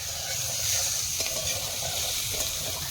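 Onion and garlic frying in a wok-style pan while being stirred, a continuous close sizzle with soft scraping stir strokes, no talking over it.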